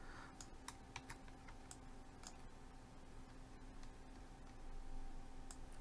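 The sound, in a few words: pressing keyboard shortcut keys in 3D modeling software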